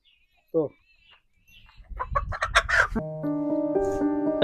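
A single short cluck, then louder clucking and squawks from nearby hens and chicks, ending in a sustained crow-like call.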